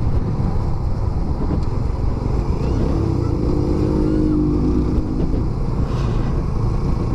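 A carbureted Suzuki Raider 150 motorcycle is ridden with a loud, steady engine drone and wind rush, close up, its pitch rising and falling slightly.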